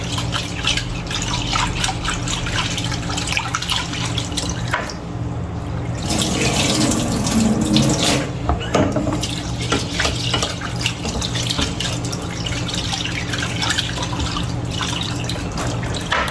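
Rice being rinsed in a kitchen sink under a running tap for Trinidad paleau, a steady splashing and trickling of water close by, continuous throughout with a brief swell of gushing in the middle.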